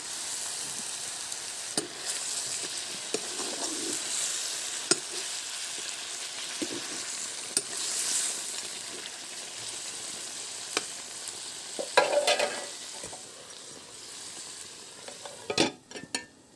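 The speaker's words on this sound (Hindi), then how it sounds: "ओकर बाद तोप के बस भूंजत जाना है कुकरी ला" Steady oil sizzle of chicken frying in a pan with garlic and onion, with occasional clinks and scrapes of a utensil stirring, fairly quiet and close.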